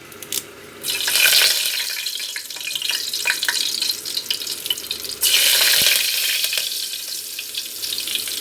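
Curry leaves spit and sizzle in hot oil in a pot for chicken dum biryani, a loud, steady frying crackle with a fresh burst as more goes into the pan partway through.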